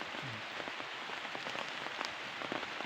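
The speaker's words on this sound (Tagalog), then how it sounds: "Umuulan na." Steady rain falling on a surface, a dense even patter of drops with a few louder splashes, no talking.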